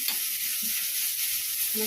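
Ridge gourd fries with onion in a pan, a continuous close hiss of oil with faint scraping of a spatula now and then, no voices over it.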